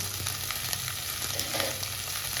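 Green vegetables and cumin fry in a pan for paneer bhurji, giving a continuous close, crackling sizzle with no voices.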